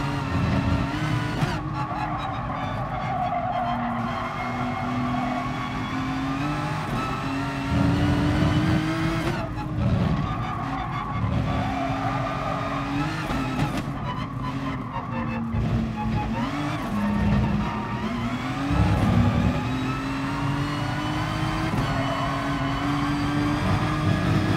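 A race car in Gran Turismo Sport pushed hard, engine droning steadily through gear changes while the rear tyres repeatedly squeal and skid as grip is lost and regained, loud and continuous throughout.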